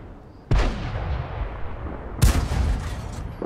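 Gunfire from a Type 64 in a video game: two loud, sharp shots about two seconds apart, each followed by a long rumbling echo on a highway map.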